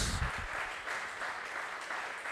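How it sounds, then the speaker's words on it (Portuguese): A church congregation at a praise and worship service claps its hands, a brief, even wash of applause that holds steady throughout at moderate loudness. "Aplauda o nome dele mais uma vez."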